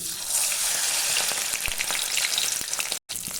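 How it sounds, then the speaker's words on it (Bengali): Eggplant fries in hot oil in a pan, giving a steady, close sizzle with scattered pops and a brief dropout near the end. "বেগুনটা আমি এখানে ভেজে নেব প্রথমে"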